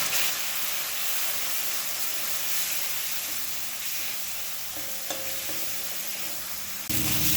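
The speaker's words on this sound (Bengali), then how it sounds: "সমস্ত উপকরণ এবার লো ফ্লেমে 2 মিনিট কষিয়ে নেব।" A paste of ground coriander, cumin, chili and turmeric frying in oil on a low flame, with a constant dense hiss and sizzle, a few soft stirring knocks late on, close and uninterrupted by speech.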